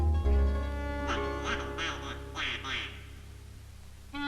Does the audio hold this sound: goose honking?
yes